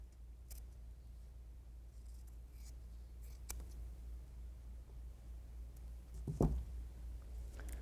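Scissors cutting fabric pieces for quilt blocks, a few quiet separate snips spaced across a hushed room with a low background hum, and one louder, sharper cut near the end.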